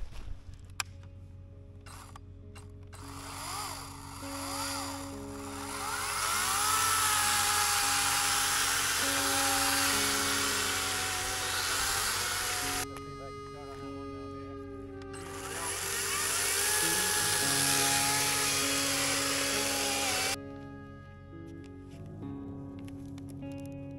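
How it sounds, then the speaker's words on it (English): Chainsaw cutting through downed wood on a mountain trail in Oregon's Siskiyou range, a loud steady engine roar rising and falling in two long revving bursts with idling between, fairly close. "Well, my amateur chainsaw skills, I was over here trying to help Andreas"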